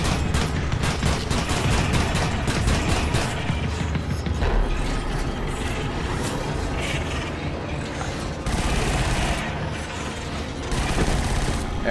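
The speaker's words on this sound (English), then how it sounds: "I'm shooting them, but they're not dropping their canister." Gunfire from shooting enemies in the Killzone: Shadow Fall video game, continuous rapid clattering shots layered over loud mechanical game noise throughout, with a brief pause and a few heavier bursts.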